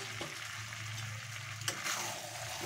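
Chicken and fried potatoes sizzle steadily in a pan while being stirred, with a continuous close crackle and an occasional scrape or clatter of the spoon.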